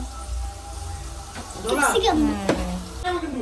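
Carrots fry in a pan in a home kitchen, a moderate sizzle and stirring clatter heard close by while people talk over it.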